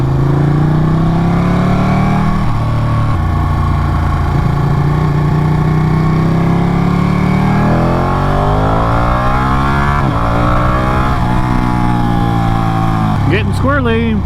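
A Ducati Panigale 959 motorcycle ridden through mountain switchbacks, its engine loud and close, the pitch rising and falling as it revs through gears and rolls off for corners.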